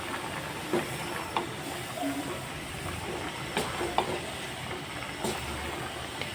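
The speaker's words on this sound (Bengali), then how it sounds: "আস্তে আস্তে পুরো লাউটা ঝোলটার সাথে মিশিয়ে নিব" Quiet stirring of bottle gourd into a fish-head curry in a pot, soft scrapes and knocks of a spoon over a faint simmering hiss.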